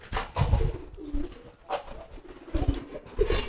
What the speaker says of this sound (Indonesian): Ini ke semua merpati ya